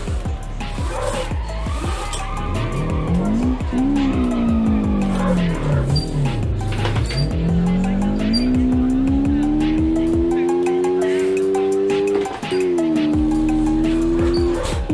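A Toyota AE86 drifting in BeamNG, its engine revving loudly with rising and falling pitch and a long sustained tire squeal through the slide, while someone talks over it.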